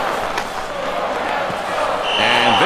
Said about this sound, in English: This crowd cheering their Canadiens on to break the tie here in Montreal